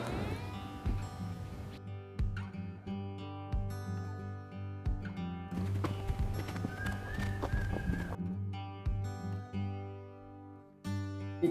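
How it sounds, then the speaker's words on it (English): Horse hooves clip-clop during a horseback ride down into Canyon de Chelly, heard as irregular hoof strikes under a sustained tonal musical backdrop with a brief whinny-like sound. "this morning we are taking a horseback ride down into the canyon"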